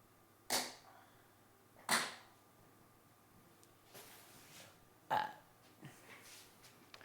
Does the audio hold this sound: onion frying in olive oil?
no